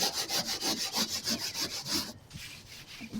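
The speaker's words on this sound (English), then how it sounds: "So I might just give it a bit of a brush as well" Stiff brush scrubbing rust off a steel canal boat hull, with quick rhythmic rasping strokes close by that stop abruptly, leaving a quieter scratchy tail.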